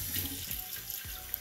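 Water gushing out of a pipe into a basement sewer drain while pressure is released, a steady, faint, close rush of running water with no talking.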